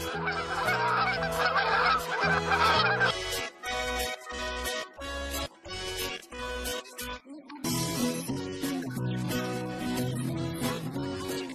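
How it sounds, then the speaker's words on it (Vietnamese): A goose honks loudly and repeatedly in quick rhythmic bursts, harsh nasal calls close up and continuing without pause. "Goose."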